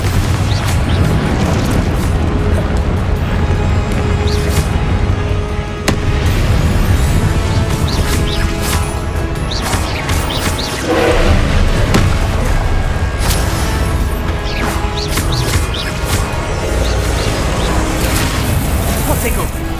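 Fiery Confringo blasting spells explode during combat in the video game Hogwarts Legacy. Loud, dense booms and bursts run almost without a break, with a voice speaking over the chaos.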